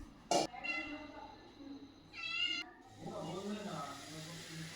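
A pet cat meows for milk in a rural home, a few drawn-out close meows with gaps between them, while a person talks between and after the cries.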